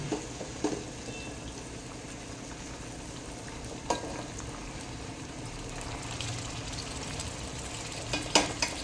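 Chicken fried rice fries in a pan with a steady, moderate sizzle and bubbling, broken by a few sharp clinks and scrapes of stirring utensils against the pan.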